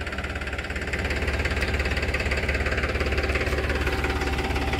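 A Farmtrac 45 tractor parked at the edge of a field idles close by with a steady, rhythmic diesel chug and vibration, continuous throughout with no talking.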